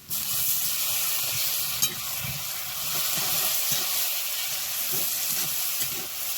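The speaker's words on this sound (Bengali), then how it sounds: "টমেটো পেঁয়াজ সব একসঙ্গে আমি হালকা হালকা কষে নিয়েছি" Onion, green chilli and tomato fry together in a pan with a close, steady sizzle and soft stirring scrapes, with no talking.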